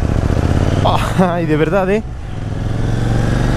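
A KTM Duke 790 motorcycle engine pulls away in a gentle riding mode with a steady, close, continuous engine drone. A brief rising revving tone sits on top, and a rider speaks over it.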